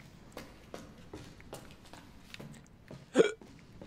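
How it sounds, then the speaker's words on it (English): A single sharp hiccup near the end of a stretch of faint taps and shuffling footsteps, the hiccup standing out loud and close against quiet background. "I got the hiccups."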